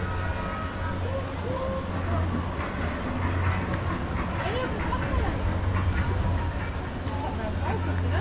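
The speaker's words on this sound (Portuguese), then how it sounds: "olha lá o trenzinho andando ali" A small train rolls along a railway track cutting through forest near a campsite, a steady low rumble with faint clatter, heard from a distance beneath background ambience.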